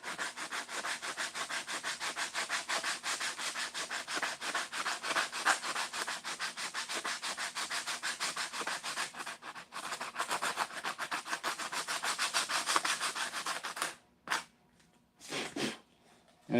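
Rapid, rhythmic rasping strokes of sandpaper work across bondo filler on custom mirrors for about fourteen seconds, close and steady, then stop and give way to a few short scrapes.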